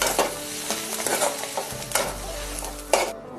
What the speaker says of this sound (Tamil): நல்லா திருப்பி நல்லா கிண்டி விடுங்க.